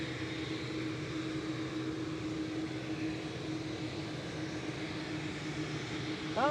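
A Boeing 787-8 jet departs Manchester Airport for Mahon, giving a steady, fairly distant engine roar that holds evenly throughout with no voices over it.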